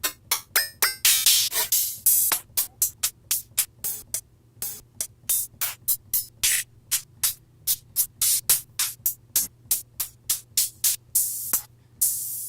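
Clicky hi-hat samples auditioned one after another in Studio One, a long rapid series of short crisp ticks and hisses with uneven gaps between them.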